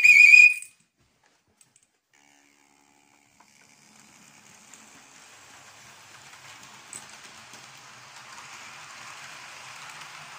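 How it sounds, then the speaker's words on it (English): A guard's whistle blows a short, sharp, shrill blast at the start of a toy train's departure. The whistle is followed by near silence, then a faint, rising rattle of the small train running along its track. "it will depart as soon as I can find the guard's whistle"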